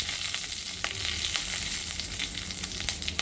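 Cumin, mustard seeds, cloves, peppercorns and other whole spices sizzle and crackle steadily in hot oil in a pan, a dense continuous frying hiss with scattered pops throughout, close and fairly loud, with no talking.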